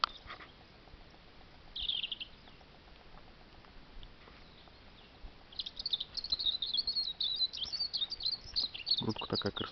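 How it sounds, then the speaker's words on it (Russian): A European robin sings in spring, with quiet, fairly distant bursts of high chirping and trilling phrases that grow busier toward the end over a faint outdoor background. "Вот птичка малиновка,"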